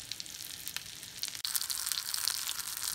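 Butter, olive oil and green onions sizzling steadily in a pan, a continuous close crackle with a brief dip midway and no talk.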